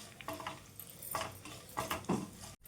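Red chillies and spices dry-roasting in a pan over a low flame, heard as intermittent close scraping and rustling stirs with light metallic scrapes and a faint sizzle, ending in a brief sharp knock.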